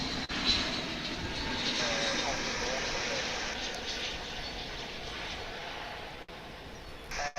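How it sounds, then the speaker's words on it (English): An American Airlines Airbus A321 arriving from Cancun at Dallas Fort Worth produces a steady, moderately loud jet rumble that holds evenly throughout, with a couple of brief dropouts. "American Flight 1750 and Airbus A321."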